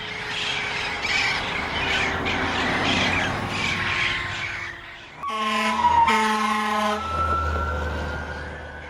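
An ambulance siren wails past in a busy Florida setting with traffic noise, its tone rising and then sweeping downward as the vehicle goes by, loud and close near the end, with birds squawking in the background.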